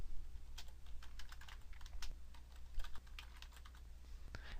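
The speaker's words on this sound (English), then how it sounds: "click in here and start typing." Rapid, irregular keystrokes on a computer keyboard while entering text in photo-editing software, close and fairly quiet over a low steady hum, with no talking.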